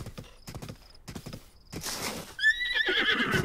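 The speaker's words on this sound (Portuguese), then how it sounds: "Olha o cavalo bonito ali no meio," Horse neighing in the video game The Legend of Zelda: Breath of the Wild, with clip-clop hoofbeats and scattered thuds before a loud, wavering whinny bursts in near the end.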